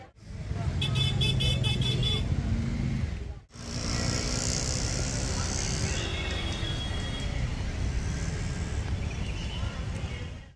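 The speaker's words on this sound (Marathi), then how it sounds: "फुल ट्रॅफिक जाम आहे." Busy road in a full traffic jam near the ISKCON temple in Kharghar, with dense engine rumble and car horns tooting through steady, loud traffic noise.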